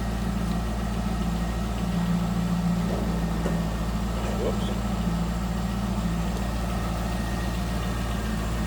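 A 2003 Chevrolet Corvette 50th Anniversary convertible's 5.7-liter LS1 V8 with an aftermarket axle-back exhaust idles with a steady, deep, even rumble. A brief spoken word is heard over it.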